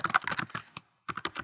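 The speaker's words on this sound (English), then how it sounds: "You just click in here and start typing." Quick bursts of keystrokes on a computer keyboard while notes are entered, close and clear, with a short pause before the tapping resumes.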